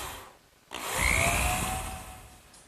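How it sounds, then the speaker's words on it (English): A power driver sinks a screw into wood to fix a chair part in a workshop, a single whirring burst that rises after a short pause and then tapers off, close and clear. "And now just a couple screws on this end to secure it."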